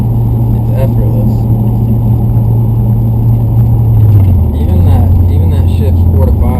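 A manual car's engine drones steadily and loudly, then its pitch drops around a quick third-to-fourth gear shift before it pulls on, with a constant rumble throughout.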